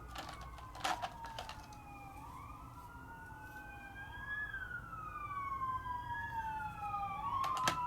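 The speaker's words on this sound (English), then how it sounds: "There are the sirens." Wailing sirens rise and fall continuously, fairly distant, with a faint road hum beneath and a couple of brief knocks near the start and end.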